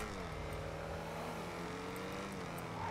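An Audi R8 mod car driving in GTA 5 gives a steady engine drone with layered harmonic tones that rise slightly, close and continuous over a rumbling road noise.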